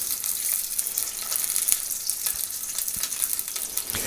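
Quail browning gently in a pan, giving a steady, even sizzle with a few faint pops and scrapes, close and unbroken, with no voices over it.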